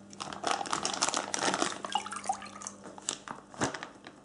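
Aquarium water and a fish are poured into a plastic bag, giving close, soft splashing and trickling with drips and light crinkles of plastic, with no talking.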